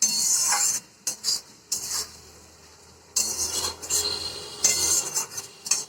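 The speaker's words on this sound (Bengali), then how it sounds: "এই মশলা দিয়ে আলুটা ভালো করে বসাচ্ছি" A spatula stirs fried potatoes coated in spices in a pan, making loud, close rasping scrapes in rhythmic bursts separated by short pauses, with no talking.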